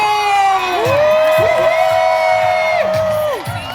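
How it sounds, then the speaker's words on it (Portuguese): A rally crowd welcoming federal deputy Érica Hilton erupts in loud, sustained cheering, with long sung-out shouts and whoops rising and falling together close by, while any clapping is buried under the voices. "com uma salva de palmas, recebam a nossa deputada federal, Érica Hilton"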